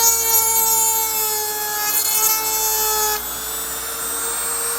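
An INGCO mini rotary tool grinds a PVC pipe, a steady high-pitched motor whine with a dense abrasive rasp that holds throughout, loud and close, shifting slightly in pitch partway through.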